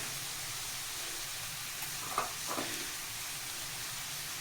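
Spices sizzle softly and steadily in a pan for paneer butter masala, with a couple of brief stirring scrapes near the middle.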